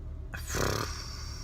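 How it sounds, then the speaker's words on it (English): One short, low burp from an adult sounds close and rough for about half a second against quiet room noise. "Sorry, I had to burp."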